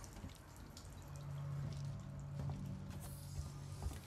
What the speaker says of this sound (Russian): Чё, вода течет.